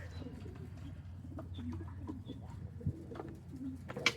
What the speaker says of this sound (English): There's at least one pigeon sitting outside there has just got home.